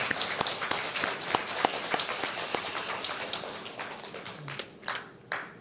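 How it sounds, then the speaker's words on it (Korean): A church congregation claps for the choir at a Sunday worship service, a dense patter of hands with sharper individual claps standing out, thinning and fading toward the end. "다시 한번 박수로 응원하고 격려하도록 하겠습니다"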